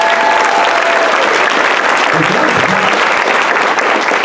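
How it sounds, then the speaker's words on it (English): Loud, dense applause from a large convention crowd at RTX 2017 fills the room without pause for a panelist named Laura, with a few voices rising briefly in the middle. "Round of applause for Laura"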